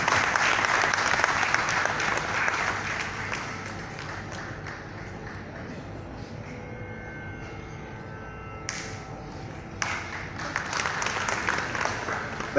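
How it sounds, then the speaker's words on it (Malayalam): Audience applause welcoming a guest onto the stage at a World Malayalee Council Melody Night welcome ceremony, a dense, loud clapping that thins to scattered claps midway before swelling again. "ഒന്ന് കൈയടിക്കുകയല്ലോ പ്ലീസ്"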